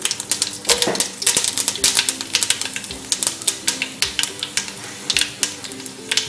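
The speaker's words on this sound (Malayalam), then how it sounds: "അപ്പൊ കടുക് പൊട്ടി തുടങ്ങി, നമുക്കിതിലേക്ക് വറ്റൽ മുളക് ചേർത്ത് കൊടുക്കാം." Mustard seeds splutter in hot coconut oil with dried red chillies added, giving a close, rapid run of sharp irregular crackles and pops over a steady sizzle, with no talking.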